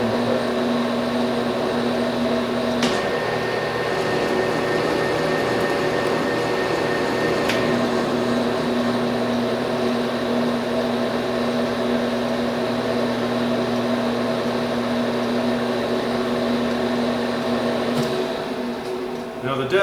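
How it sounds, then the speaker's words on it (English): A metal lathe cutting a thread on a part holds a continuous motor hum and whine for about twenty seconds, with a few sharp clicks along the way, close and fairly even in level. "Maybe one more cut."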